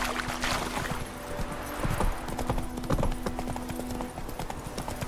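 A horse gallops in The Witcher 3 video game, with steady rhythmic hoofbeats close by and a faint snort or whinny under the game's ambient sound.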